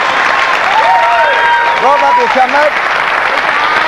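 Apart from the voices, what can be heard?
studio audience applause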